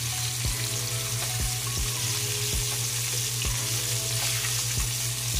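Fish pan-fries in shallow oil until crispy, a steady loud sizzle and crackle with periodic clanks of a utensil against the pan.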